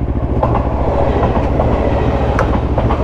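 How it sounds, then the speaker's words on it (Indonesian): A capsule-style train in rural Japan rolls steadily past on its rails, a loud continuous rumble with rhythmic clickety-clack of wheels over rail joints, close and without speech. "Keretanya kapsul gini, keren ya."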